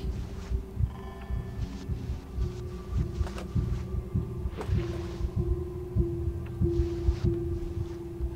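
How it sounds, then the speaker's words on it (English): A low, throbbing heartbeat pulses steadily through the horror game Among the Sleep beneath a sustained droning hum, with faint clicks scattered over it and no voices. "The heartbeat grows stronger."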